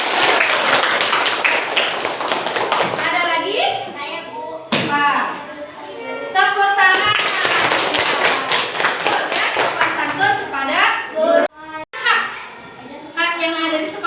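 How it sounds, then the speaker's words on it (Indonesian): Schoolchildren in an Indonesian classroom clap, with a few sharp claps heard among their loud chanting and talking voices, which fill nearly the whole stretch. "tepuk tangan"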